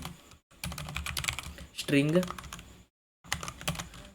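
Close keyboard typing as Dart code is entered on a computer, irregular clusters of clicky keystrokes broken by short silences, with a brief vocal sound in the middle.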